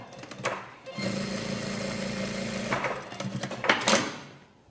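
Sewing machine stitching a seam on a suit jacket pocket, a steady close whirring run of about two seconds between brief handling clicks and rustles of fabric.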